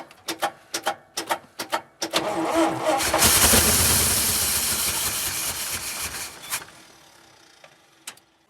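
Several sharp cranking bursts, then an old Fargo engine, given a bit of choke, catches and runs with a rough, loud roar that settles and fades, a few clicks at the end.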